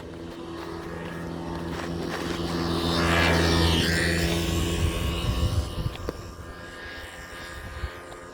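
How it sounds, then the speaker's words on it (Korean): A motor engine swells as it passes nearby, rising to a loud roar midway and then fading, with a steady low drone throughout. "어, 오토바이 있네?"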